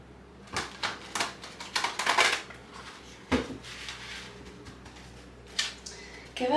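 Tarot cards shuffled by hand in a quiet room, a series of soft, crisp riffling bursts and taps spread irregularly over several seconds, close and fairly faint, with no talking.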